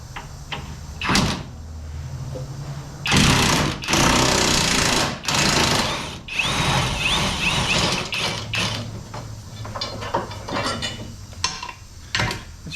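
Bursts of power-tool rattling and clanking metal while a bolt comes off the fuel tank of a 2004-2008 Ford F150, close and uneven, with short loud runs between quieter gaps and tool handling.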